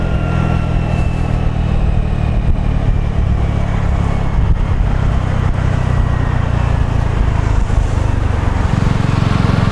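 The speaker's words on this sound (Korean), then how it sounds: "엔진 브레이크 걸어주고" A Victoria Nicky 125cc classic scooter engine-braking on a downhill road, its steady engine drone and wind rush loud and close throughout, with a slight shift in tone near the end.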